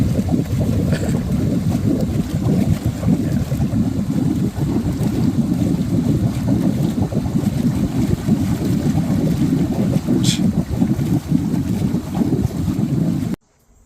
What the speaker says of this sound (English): You could hear the air pushing out, the water pushing out.